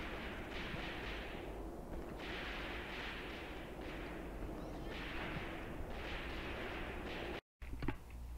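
Gunfire and artillery in the World War II tactics game Graviteam Tactics, a dense, continuous rumble of distant shots with rhythmic swells of heavier bursts and a brief dropout near the end.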